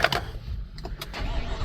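A 2021 Chevy Suburban, bought at auction with heavy rear damage, cranks without starting, a brief close mechanical churn of the starter spinning the engine over, a fuel pump power control module fault behind the no-start.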